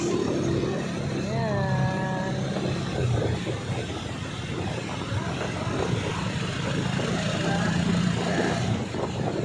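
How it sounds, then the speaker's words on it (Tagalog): A noisy tricycle engine drones steadily and loudly throughout while riding fast along a road, with constant rumbling and wind noise and voices talking faintly underneath. "Kasi maingay yung tricycle guys. Saka mabilis yung takbo namin."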